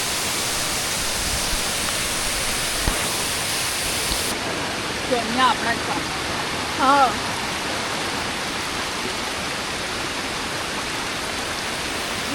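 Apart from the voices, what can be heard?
small creek and waterfall flowing, Monteverde, Costa Rica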